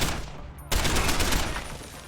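Gunshots in Deus Ex: Human Revolution, a brief loud report followed by a burst of rapid fire that fills the short moment.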